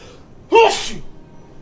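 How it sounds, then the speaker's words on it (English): A single sharp sneeze bursts out loudly, preceded by a quick inhale and trailing off into quiet. "I'm gonna sneeze."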